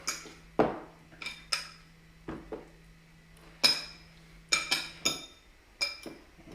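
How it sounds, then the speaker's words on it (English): Fish pieces get stirred through egg and milk in a bowl, heard as a series of close, sharp clinks and knocks of a utensil against the dish, spaced irregularly, with no talking. "just give a good stir around so they all get coated in that egg and milk"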